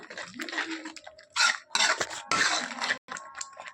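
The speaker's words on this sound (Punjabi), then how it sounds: "ਹੁਣ ਇਹਨੂੰ ਚੰਗੀ ਤਰ੍ਹਾਂ ਭੁੰਨ ਲੈਣੇ ਆ ਪਿਆਜ਼ਾਂ ਨੂੰ" Onions roasting in a pan with chilli powder and salt for an aubergine dish: a spoon scrapes and clatters against the metal in uneven strokes, close and fairly loud, with faint sizzling between the knocks.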